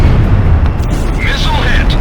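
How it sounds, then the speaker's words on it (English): A missile striking its target in the jet combat game Ace Combat Zero: The Belkan War, a loud, rumbling explosion under constant engine roar, with faint radio chatter. "Missile hit."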